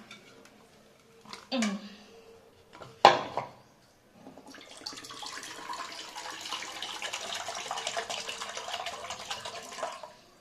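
Tender coconut water pours into a cup in a steady, splashy stream that runs for about six seconds. It comes after a few sharp knocks and handling sounds, with some faint talk nearby.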